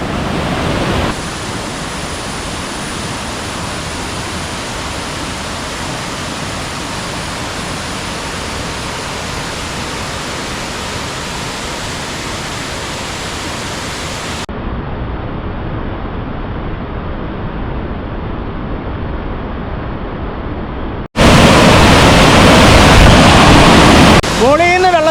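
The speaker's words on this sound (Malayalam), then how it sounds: "എൻ്റെ പുറകിൽ കാണുന്നതാണ് പാമ്പനാൽ വെള്ളച്ചാട്ടം" Pampanal waterfall in Kerala rushes in the monsoon season, a steady broadband roar of falling water that shifts in tone partway through and swells louder near the end, with no voices over it.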